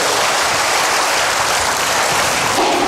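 Loud, dense applause from a church congregation at a worship service, continuous close clapping from many hands holding steady for the whole stretch.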